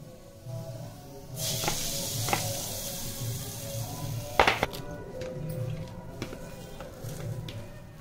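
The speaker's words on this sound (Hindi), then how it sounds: "सो हम लगाएंगे तड़का" Spices for a tadka are added to hot oil and give a soft, continuous sizzle and hiss throughout. A few sharp crackles and pops break through near the middle.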